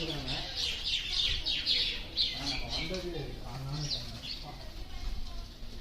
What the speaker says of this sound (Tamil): அந்த பேர்ட்ஸ் எல்லாம் கட்டும்போது நல்லா இருக்குங்க, நல்லா சூப்பராக கத்திட்டு அதை கேட்கும்போது அந்த ஓசை வந்து நல்லா இருக்குது